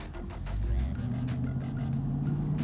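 An HSV GEN-F GTS held on constant throttle while sweeping through a full circle, its engine droning at a steady pitch close by with faint road and tyre noise.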